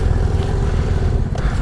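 A BMW GS motorcycle's engine drones loud and close during an offroad riding exercise, a steady low rumble with a brief rev and some clatter near the end.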